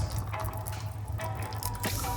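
Thick porridge pours from a pot into a large bowl, giving soft wet drips and squelching plops in an irregular rhythm over a low background hum, close up and fairly quiet.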